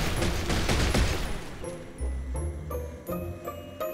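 Gunfire in the video game Besiege: a quick fusillade of sharp cracks, then several spaced, clipped shots ringing out against a low background hum, with no talking.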